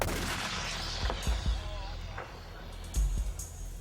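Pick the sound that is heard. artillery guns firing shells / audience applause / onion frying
artillery guns firing shells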